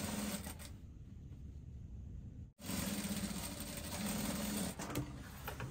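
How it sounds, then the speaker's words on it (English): Domestic sewing machine stitching fabric along a seam for a cowl bubu garment, a steady close whirring run that halts briefly midway, then resumes and continues to the end. "Just rotate the fabric this way, then you're going to stitch all the way back the side."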